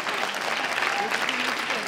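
An audience applauds a young artist at an evening gown fashion show, a steady, dense wash of clapping from a crowd, continuous and fairly loud throughout.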